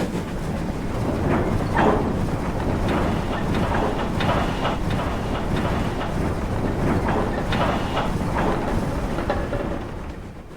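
A BR Standard 4MT 2-6-4T tank steam locomotive runs in Train Simulator, a steady dense rumble of rolling wheels and chuffing with faint rhythmic rail clicks, continuous and fairly loud throughout.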